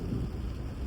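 Rain falls on a drive into downtown Baltimore, Maryland: a brief, soft, continuous low rumble of rain and road noise with no voices.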